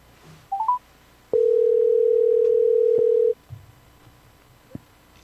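A telephone call is being placed: a few quick dialing beeps, then a loud steady dial tone held for about two seconds before cutting off, followed by a faint click, alone with no talk.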